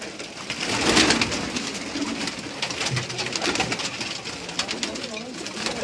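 Pigeons coo from a Karachi rooftop, a soft, continuous murmur of calls with a fuller swell early on. Ambient noise sits underneath throughout.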